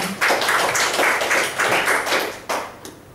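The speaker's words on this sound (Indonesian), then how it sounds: "Tepuk tangan buat Prudential teman-teman ya" A small group clapping at a Prudential company event, a quick, close burst of hand claps in uneven waves that fade out toward the end, with no talking over it.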